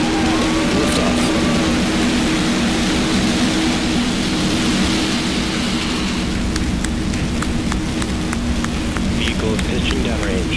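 A SpaceX rocket lifts off with a loud, continuous broadband roar that fills the whole clip, steady and overwhelming, with crackling bursts toward the end.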